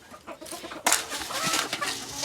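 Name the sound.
gamefowl rooster clucking in pen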